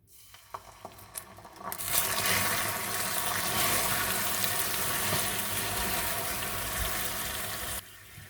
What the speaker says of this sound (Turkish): suyumuzu 3 aşamada ekleyeceğiz